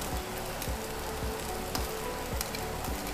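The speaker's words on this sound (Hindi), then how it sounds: "अब हम इसमें ऐड कर रहे हैं कैबेज, बंद गोभी और साथ में शिमला मिर्च और साथ में प्याज" Shredded cabbage, capsicum and onion fry in a hot pan for spring rolls, making a loud, dense, continuous sizzle with occasional soft knocks and crackles throughout, and no voices.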